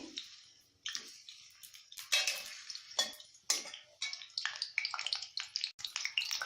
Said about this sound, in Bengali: আমি এখানে আলুটা প্রথমে ভেজে নিব।